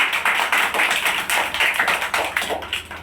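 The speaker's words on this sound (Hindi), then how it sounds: "ताली बजाओ समूह भाई" A group of people claps hands together during a counting game, giving dense, rapid, fairly loud clapping that swells in repeated bursts throughout.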